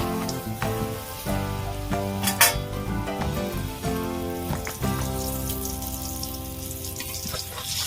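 Cabbage masala paratha sizzles in a pan, a steady crackling fry with scattered pops and clinks over a background of soft music tones.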